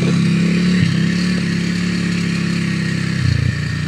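A Kawasaki W230 (Meguro) motorcycle of under 250 cc is ridden on an autumn road, its single-cylinder engine a steady, close droning putter with slight shifts in pitch as the throttle changes.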